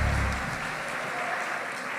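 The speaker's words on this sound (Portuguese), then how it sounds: "aplauda o Senhor enquanto eles voltam" A church congregation at a women's conference claps together, a moderate wash of applause that fades slightly after a stronger opening moment.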